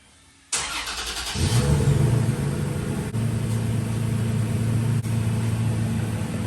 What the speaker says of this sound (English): What I'm gonna do now, I'm gonna turn on the truck.